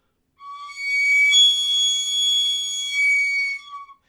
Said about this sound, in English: Here's an eagle bone whistle from the North American traditions, carved from the bone of an eagle